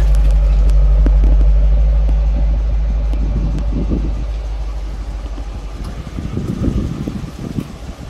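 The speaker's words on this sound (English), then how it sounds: "This is a booming exhaust sound." A Dodge Challenger with a six-speed manual gives a deep, loud booming exhaust rumble, heavy and steady at first, then easing into a rougher, uneven idle burble, close by and with no talk.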